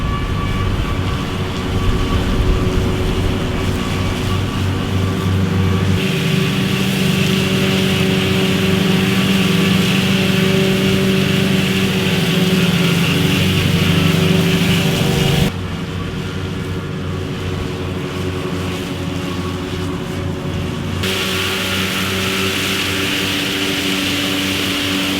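Tractor-mounted silage mowers with about an 11-metre cut mow grass on a farm: a loud, continuous engine drone with a rough mechanical rumble, shifting in tone partway through.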